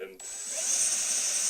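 A power drill bores a hole at a punched entry point, its motor rising abruptly into a loud, steady high-pitched whine that holds without a break.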